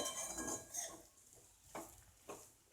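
Utensil scraping and clinking in a pan while podi idli is gently stirred into a tomato-onion masala, with a soft steady sizzle underneath and a few sharper knocks toward the end.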